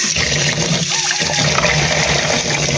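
Water is poured steadily into a bowl with salt to soak saluyot leaves, a continuous close rushing splash lasting the whole moment without pause.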